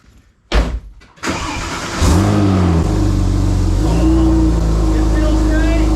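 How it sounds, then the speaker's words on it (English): A Porsche 997 911 Turbo with a newly fitted clutch starts up with a couple of sharp bursts, then settles into a loud, close engine drone as it pulls away, rising slightly in pitch. "let's see how this clutch feels actually moving the car"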